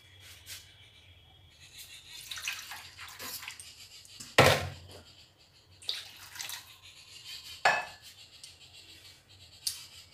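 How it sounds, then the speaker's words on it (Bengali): Water poured into a pan of rohu fish curry cooked with mustard and poppy seed paste, giving brief, irregular splashes and soft clinks close by, with no talking. "এবার আমি আরেকটু জল দিয়ে দিচ্ছি।"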